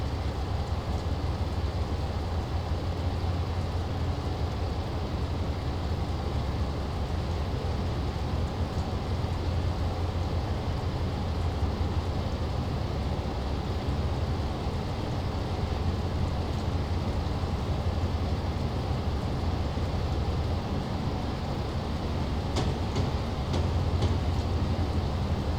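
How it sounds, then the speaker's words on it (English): Class 47 diesel locomotive running on the East Coast Main Line in Train Simulator 2017 through horrible weather: a steady, dense low rumble with constant broadband rain-like hiss throughout, a few faint clicks near the end. "Horrible weather on the East Coast Main Line today on our quick service."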